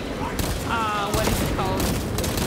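Heavy gunfire in the video game Space Marine 2, rapid overlapping shots and booms in a dense battle din, with voices talking over the fighting.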